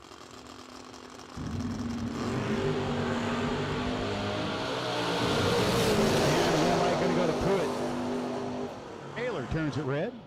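A Camaro and a wagon launch side by side in a doorcar drag race, engines roaring loud and sustained down the strip for several seconds before fading, with an announcer talking over them.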